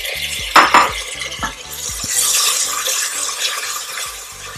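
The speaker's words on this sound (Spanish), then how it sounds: "y lo removemos también un poquito" A spoon stirs chopped tomato and vegetables in a cooking pot, with scraping, clinking strokes in a quick uneven rhythm at close range and a light sizzle and wet squish underneath.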